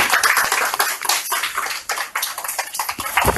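An audience at a refugee policy forum breaks into dense, continuous applause that closes the discussion event, loud and steady throughout with no voices over it.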